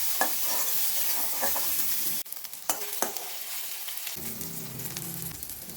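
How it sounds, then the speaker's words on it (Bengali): Eggplant pieces frying in hot oil, a loud continuous close sizzle that suddenly drops quieter partway, followed by spatula clinks and scraping as the frying carries on. "এবার বেগুনগুলোকে ভালো করে ভেজে নামিয়ে নেব।"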